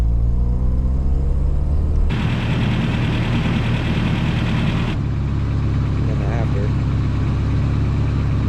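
A Toyota engine idles after an ignition timing and idle adjustment, a loud, close, continuous rumble whose tone shifts abruptly twice as the idle changes, with some faint voices underneath.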